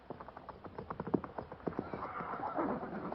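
Cavalry horses' hooves clip-clop in a steady, overlapping walking rhythm, moderately distant, with a rising wash of movement and a brief whinny-like sound as the troop sets off.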